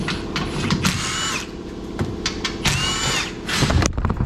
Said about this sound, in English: Let's just pull these bolts out.